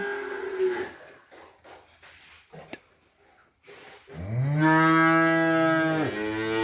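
Cattle at a livestock pen moo loudly in one long, close, drawn-out call near the end, after quieter lowing and faint shuffling noises earlier.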